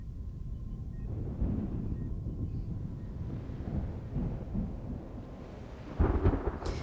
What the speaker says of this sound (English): The storm is imminent.